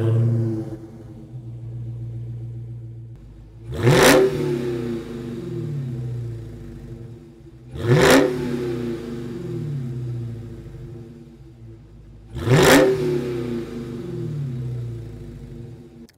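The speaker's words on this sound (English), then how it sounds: "now let's go ahead and listen to this exhaust. I'm gonna actually remote start it with the key here." A 2021 Dodge Charger Hellcat Widebody roars to life three times by remote start, each a loud, sharp exhaust blip that settles into a deep, steady idle rumble, with no talking.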